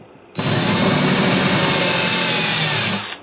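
A power drill bores steadily all the way through wood on a C.F. Martin Shenandoah guitar, a loud, close, continuous high whine with a sharp start and stop lasting about three seconds.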